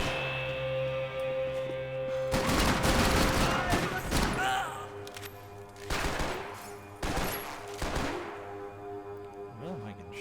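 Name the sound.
gunfire shooting at the player in video game Max Payne 3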